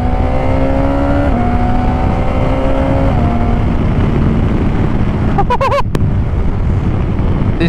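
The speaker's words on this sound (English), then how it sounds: "So now we've got the Cobra on, slightly nicer sort of on tick over, but up top the induction noise just takes over." A 2021 BMW S1000XR motorcycle fitted with a Cobra exhaust drones steadily with a low engine tone that steps slightly in pitch, heavy wind rush over the microphone throughout, and a brief burst of higher whining near the end.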